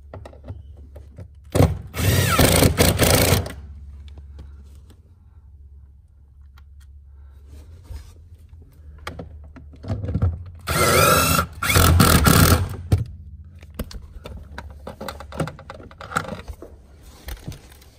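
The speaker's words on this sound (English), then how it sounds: "Now we're just going to put those nuts back on and re-secure them with a 10mm." Nuts are re-tightened with a 10mm socket power tool during an aluminum pedal install on a Fiat 500 Abarth, two loud whirring bursts close by, separated by quieter clicks and handling noise.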